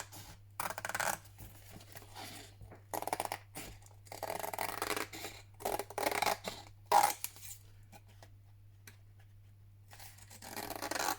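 Scissors cut paper along printed lines for a digital-kit papercraft project, a series of crisp snipping and sliding cuts in bursts with short pauses between them, close and fairly quiet, no talking.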